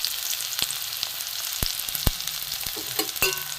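Chopped onion and a little chopped garlic sizzle in a pan for a potato roll filling, a steady close crackle broken by a few sharp clicks and scrapes of a utensil, with no voices.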